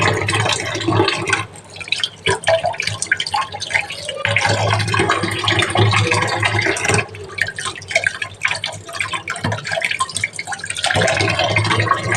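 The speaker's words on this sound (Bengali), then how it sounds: "ভালো করে আমি চটকাই ধুয়ে নিচ্ছি" Pointed gourds (potol) being washed and rubbed by hand in a basin of water, with continuous close splashing, sloshing and dripping, loud and steady throughout.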